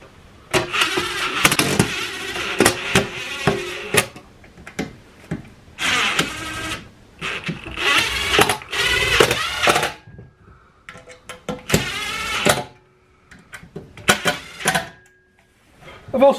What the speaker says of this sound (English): So as I go ahead and install these self-tapping screws